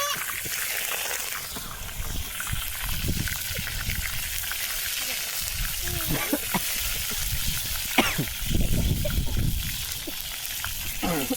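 Curry leaves sizzle and crackle in hot frying oil, a steady spattering hiss with scattered pops throughout, while a person talks over the cooking.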